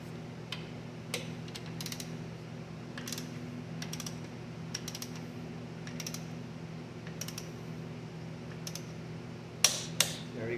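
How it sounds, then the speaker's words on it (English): Torque wrench tightening a frame slider bolt to 40 foot-pounds on a 2022 Yamaha R7: a series of faint, sharp clicks spread across the clip, ending in a louder double click near the close, over a steady low hum. "torque wrench at 40 foot-pounds"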